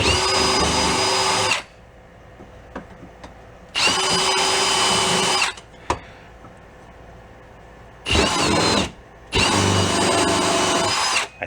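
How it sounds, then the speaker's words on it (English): A power drill whirs loudly in four separate bursts of a second or two each while drilling holes in a Beaver amphibious vehicle, with quiet pauses and small clicks in between. "We go drill this out to the right side"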